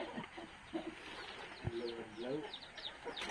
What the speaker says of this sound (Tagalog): Tapos may mga manok din siya alaga, yun, oh, manok.